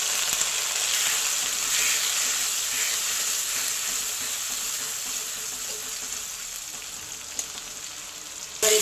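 Tomato paste fries in a pan for a vegetarian chhana kofta curry, giving a loud, steady, close sizzle that holds evenly throughout with a few faint stirring clicks.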